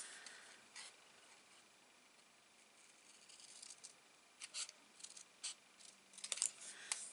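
Scissors snip through a slice of paper, faint and close, with a run of quick crisp cuts clustering toward the end over a quiet background.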